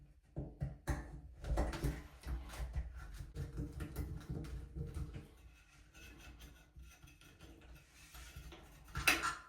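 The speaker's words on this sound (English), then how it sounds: "now we can take out those two screws in the escutcheon plate that's holding it in place" Screws are being backed out of a Moen shower faucet escutcheon plate in a bathroom, giving a run of close mechanical clicks, ratcheting and small metallic taps that continue for several seconds with no speech.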